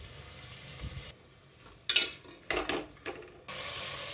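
Toor dal frying in a pan while being stirred, a soft background sizzle broken by sharp scraping clinks of a spoon against the pan in short bursts.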